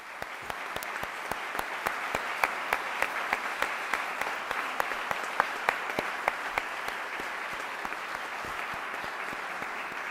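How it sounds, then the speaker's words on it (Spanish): An audience at a lecture applauds a university professor being introduced, a sustained, even wash of many hands clapping with sharper individual claps standing out, continuing steadily for about ten seconds. "para el que pido un aplauso"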